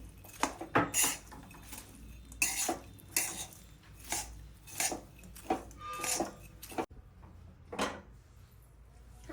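A spoon stirs almond and cashew pieces into a thick gundarpak mixture, giving a dozen or so rhythmic scraping, clinking strokes against the pan, close and fairly loud with short pauses between them.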